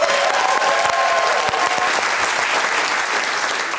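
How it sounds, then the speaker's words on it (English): Loud, dense audience applause filling a studio during a televised comedy courtroom show, sustained and even throughout with brief cheering tones early on. "ladies and gentlemen, round of applause for Jane"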